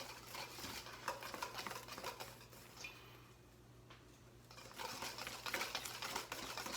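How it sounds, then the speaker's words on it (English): Pastry cream in a pot is whisked and stirred without a pause, a busy scraping, ticking patter of the whisk against the pot that dips briefly in the middle before picking up again. "I dumped in one shot and I'm stirring without stopping"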